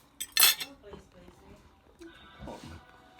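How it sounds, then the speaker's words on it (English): Ceramic plates clatter as they are stacked and set into a microwave in a home kitchen, with a loud clink near the start followed by softer knocks and shuffling handling sounds. "I'll just put the plates in the microwave and warm them"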